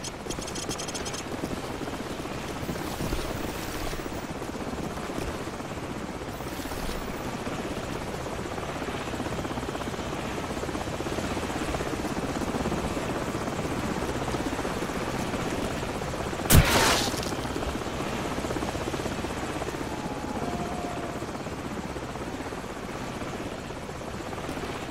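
Helicopter rotor drone in Call of Duty 4: Modern Warfare, a steady, loud thrum running the whole time, with one sharp bang partway through and faint gunfire mixed in.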